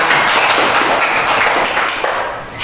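Steady clapping from a group in a primary school classroom, a dense continuous patter of many hands held at even loudness for the whole stretch.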